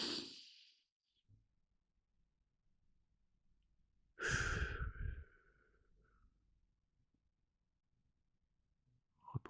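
Slow, deep breaths during a guided sophrology relaxation session: a soft breath at the start, then a louder, fuller inhale-exhale with a sighing quality a few seconds later, followed by quiet, with a faint breath at the end.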